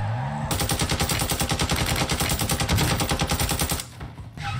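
Automatic weapon fire in the video game Warzone 2: a loud, rapid, sustained burst of evenly spaced shots lasting several seconds, then stopping abruptly into a quieter tail.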